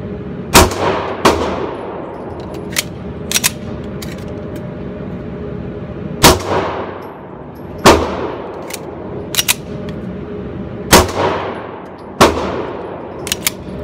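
A Dan Wesson Valkyrie Commander pistol fires a string of sharp, loud shots held in a loose two-handed grip, spaced unevenly, with lighter metallic clinks of ejected casings between them, with no voices.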